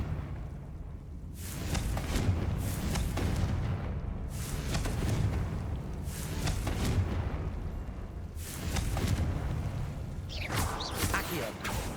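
Confringo spell blasts go off in the video game Hogwarts Legacy as repeated booming, whooshing explosive bursts in a roughly steady rhythm, loud and close, mixed with game sound.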